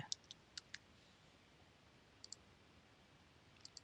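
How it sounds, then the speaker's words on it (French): Sharp, faint computer mouse clicks in a quiet room, a quick pair near the start followed by scattered single and double clicks spaced out over several seconds, with no talking. "donc on va cliquer et ajouter cette traduction"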